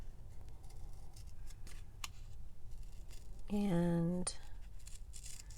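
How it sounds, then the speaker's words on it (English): Scissors fussy-cutting paper ephemera glued onto a file folder: a brief close snipping cut stands out over a quiet room with faint background talk. "I am just fussy cutting what I glued down yesterday onto file folder"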